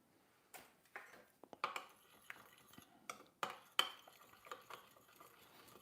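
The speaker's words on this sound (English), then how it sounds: "I'm gonna give it a good stir." A utensil clinks and scrapes against a bowl while an egg is stirred into chickpea pancake batter, with irregular sharp taps and rattles at close range and quiet pauses between them.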